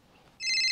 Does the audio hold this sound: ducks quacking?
no